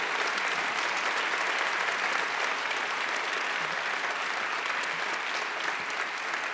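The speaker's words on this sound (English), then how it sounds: "Give them a round of applause, too." Steady, dense applause from a large audience at a mayor's State of the City address in 2016, sustained at an even level for the full stretch with no talk over it.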